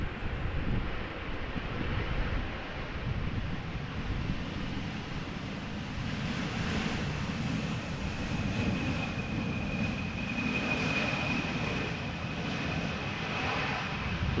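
Embraer 175 airliner touching down in gusty crosswind at Amsterdam Schiphol Airport, a continuous roar of jet engines with wind buffeting the microphone, steady and fairly close, no talking.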